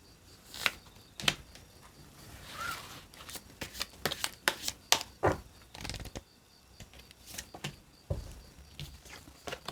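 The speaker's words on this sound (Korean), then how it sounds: "조언 카드 뽑아 볼게요" Tarot cards are shuffled and drawn during a reading, producing a series of soft, close papery flicks and snaps in irregular bursts, fairly quiet, with no talking over them.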